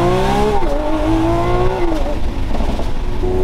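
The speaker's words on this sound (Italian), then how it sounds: "Il motore 12 cilindri è semplicemente poesia" A Lamborghini Aventador Ultimae's V12 engine revs loudly close by, its pitch rising and dipping as the throttle is worked, with a deep rumble underneath.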